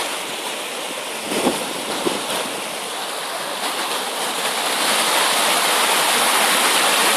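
Moorland stream on Dartmoor, flowing water giving a broad, steady rushing hiss that swells slightly louder toward the end, with a couple of faint knocks early on.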